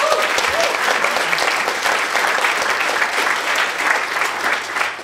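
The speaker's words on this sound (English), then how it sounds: "So give her a round of applause." Audience applause at a civic technology talk welcoming a speaker to the microphone, a dense, steady round of clapping from a room of people lasting the whole stretch, loud and close with no talk over it.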